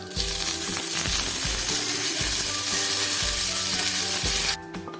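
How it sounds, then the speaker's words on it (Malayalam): Mustard seeds, dried chilies and curry leaves sizzle loudly in hot oil for a jackfruit curry, with a crackling fry and rhythmic stirring scrapes until the sizzle cuts off abruptly near the end. "കടുക് എണ്ണ ചൂടായി അതിലേക്ക് കടുക് ഇട്ട് കൊടുക്കാം കടുക് ചേരുന്ന വരയ്ക്ക് വശമുളകും കറിവേപ്പിലയും ചേർത്ത് കൊടുക്കാം"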